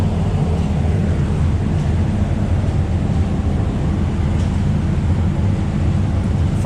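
A 2018 Camaro ZL1 with a JRE 125 RWHP package running a dyno pull, a loud continuous engine roar that holds steady and fills the whole stretch with no talking.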